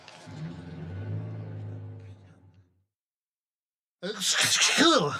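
A person talks, a moment of silence follows, then one loud, abrupt sneeze bursts out close by.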